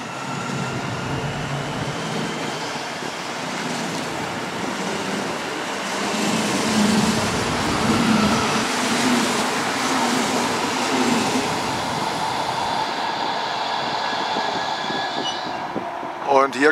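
An HLB regional train rolls past, its rumble and rail noise swelling in the middle and fading toward the end, while someone talks over it.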